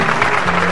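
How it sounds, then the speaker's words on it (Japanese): Studio audience clapping at the close of a televised live music special, a short, dense burst of applause heard on its own. "拍手を。"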